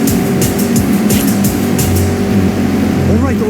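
A Mazda MX-5 in Forza Horizon drives sideways through corners. A steady engine drone with shifting revs runs under continuous talk.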